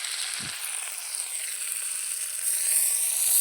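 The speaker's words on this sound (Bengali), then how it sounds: "পেঁয়াজ আর এক দুটো কাঁচা লঙ্কা কেটে নিয়ে দিয়েছি পেঁয়াজটা দিয়ে দিলাম" Sliced onions and green chilies fry in oil in a pan, giving a steady, close sizzle with a brief low knock near the start and the crackle swelling slightly toward the end.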